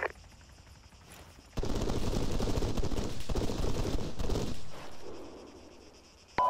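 Automatic gunfire from an Arma Shack Tactical hillside firefight breaks out after a quiet start, with rapid overlapping bursts lasting about three seconds before trailing into lighter, more distant shots.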